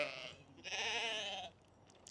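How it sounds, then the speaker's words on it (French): A small sheep bleats nearby, first a short cry and then a longer wavering bleat, both clear against quiet outdoor background. "il y a un petit mouton, trop mignon"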